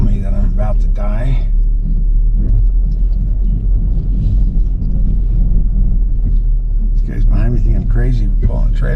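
Ford Bronco Sport crawling over rocky washed-out holes off-road in the Rockies, a heavy constant low rumble of the cabin and suspension with a driver talking over it.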